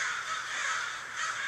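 A huge flock of crows on a roof caw continuously in a dense, overlapping chorus, loud and close.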